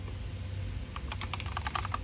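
Close, quiet clicks of typing on a Keychron K2 mechanical keyboard with some Ava-style keycaps come as a quick burst of keystrokes after a short stretch of near silence.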